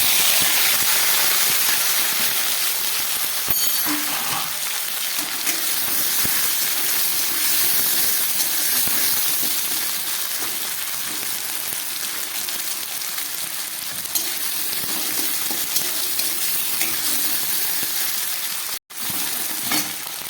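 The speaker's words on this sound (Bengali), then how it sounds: "আলুটা একটু ভেজে নিলাম।" Potato pieces fry in hot oil with cumin seeds, a dense, continuous close sizzle like heavy rain that holds steady throughout, broken by a brief drop near the end.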